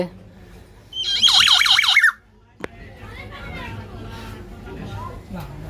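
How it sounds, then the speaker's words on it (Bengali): A hill myna at a bird market gives a loud burst of harsh, squawking calls for about a second, then goes quiet while people chatter in the background. "খুব সুন্দর একটি পাহাড়ি ময়না পাখি"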